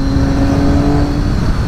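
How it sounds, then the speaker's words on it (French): A Triumph Daytona 675 triple-cylinder motorcycle engine revs loud and close, a sustained whistling, whirring drone with no one speaking. "Le bruit du Dayto est particulier, il siffle beaucoup."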